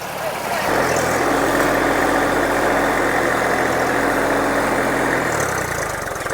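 A motorcycle engine idles steadily and loudly, with a deep continuous rumble that holds for about five seconds before easing off at the end.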